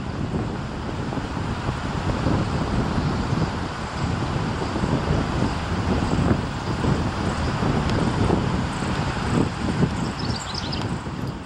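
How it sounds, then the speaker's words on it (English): Wind rushes through a pine grove in a state park, a steady broadband roar with gusty swells throughout, no voices. "Hopefully you can hear the sound of the wind through the pines."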